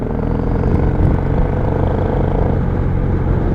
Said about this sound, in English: Damn, his bike is loud.